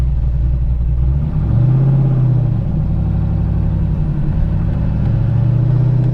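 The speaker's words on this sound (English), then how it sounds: "Push in the clutch, let off the gas, push down into second gear, let off the clutch again, give it a little bit more gas." A manual stick-shift car's engine hums steadily, with a rising rev as the clutch is released and the driver shifts into second gear and accelerates; a continuous, loud, close engine drone with no talking.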